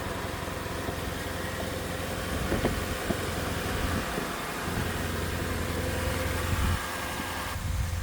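A Toyota 3UZ V8 idles while warming up, a steady, close low rumble with a faint mechanical hum, holding even apart from a few small ticks and slight shifts in tone.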